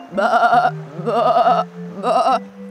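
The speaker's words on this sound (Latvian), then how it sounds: "gan aitiņas," Three loud, wavering bleats from cartoon sheep, each lasting about half a second and separated by short pauses, heard clearly with no talk.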